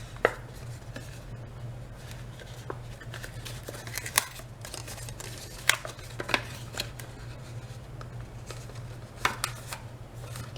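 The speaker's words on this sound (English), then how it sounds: "Just take your scissors and just cut that sliver." Scissors snip through card paper while trimming a thin sliver from a paper box, giving a few sharp, irregular cuts over a steady low hum.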